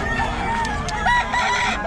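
A rooster crows loudly and close in a farm setting, a sustained crow layered with other fowl clucking and crowing, plus faint voices and farmyard noise around it.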